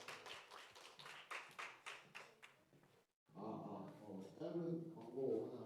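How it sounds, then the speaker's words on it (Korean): High school youth congregation at a Sunday worship service clapping in a quick run of sharp, rhythmic claps that fade out, then a pause followed by voices talking. "하나님께 영광 박수 올려드리겠습니다."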